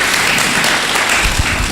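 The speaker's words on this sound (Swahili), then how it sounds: "Tumpigie makofi" A church group claps for a lieutenant, a dense, loud, continuous round of applause filling the room without pause.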